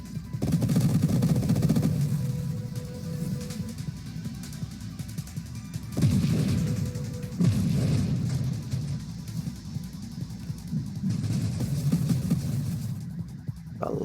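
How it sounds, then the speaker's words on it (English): Explosions and rapid gunfire crackle through a space shooter game, Nova Drift, in a dense, continuous barrage with several louder bursts, no voices. "A lot of explosions."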